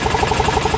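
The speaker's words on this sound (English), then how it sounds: "That's the starter." An engine's starter motor cranks in a rapid, even run of rhythmic pulses, close and fairly loud, lasting under a second with no talking.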